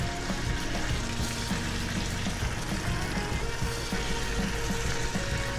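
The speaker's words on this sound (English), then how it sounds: "A nice little sizzle there." Tomatoes sizzle in a hot pan while cooking ratatouille, a steady dense frying hiss with faint crackles running continuously throughout, close and fairly loud.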